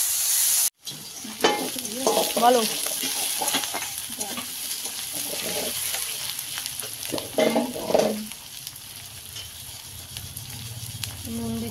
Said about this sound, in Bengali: পেঁয়াজগুলো ভাজা চলছে।